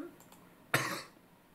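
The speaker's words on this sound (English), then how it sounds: "Fucking cough, ruining these entrances." A single sharp cough bursts out close by, brief and harsh, against an otherwise quiet background.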